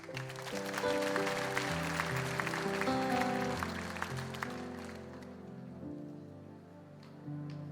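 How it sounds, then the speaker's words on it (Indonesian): A church congregation claps in a sustained burst of applause during a worship service that gradually fades, with sustained musical tones continuing underneath. "Tepuk tangan."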